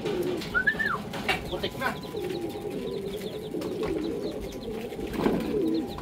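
Young racing pigeons cooing around a loft on a race day, low soft coos and a rising call close by, with someone talking briefly and birds chirping in the background.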